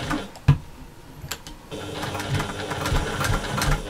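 A sewing machine back-stitches a bag seam: after a few isolated clicks and a brief pause, the motor starts up into a rapid, chattering run of needle strokes, close and fairly quiet.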